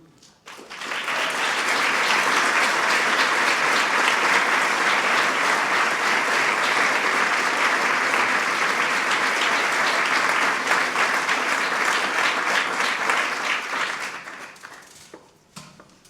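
A large audience at a 2009 Presidential Medal of Freedom ceremony gives loud, sustained applause, a dense wash of clapping that swells quickly, holds steady for about twelve seconds, then tapers away.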